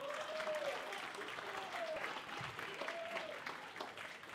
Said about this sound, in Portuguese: Continua aplaudindo, o cara está chegando